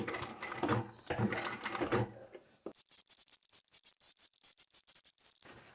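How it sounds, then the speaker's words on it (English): A sewing machine stitches the fabric of a hanging shoe rack, starting with a few loud bursts of whirring, then shifting to a quieter run of rapid, evenly spaced clicking stitches. "When I get to the corner, I do like to just back stitch again and go forward and then back again"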